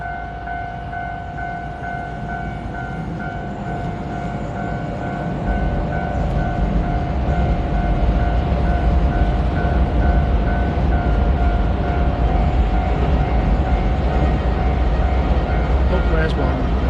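A train rumbles past at Nippori in Tokyo, a steady heavy roar that swells partway through and holds, with a sustained tonal hum over the rolling noise.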